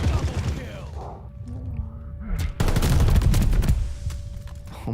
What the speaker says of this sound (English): I put a whole lot of shots into him with my incendiary MP-40